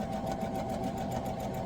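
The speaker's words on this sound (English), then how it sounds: "lift, turn, sew across that end, because there's no point in cutting thread." A sewing machine runs steadily, stitching through an ironing mat with a continuous, even mechanical whir and no breaks across the short stretch.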